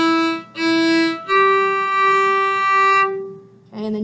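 A single string instrument, likely a violin, plays measures 18-19 of a tune: sustained bowed notes, a short repeated note, then a long held tone and a final brief note, clear and close with no talk.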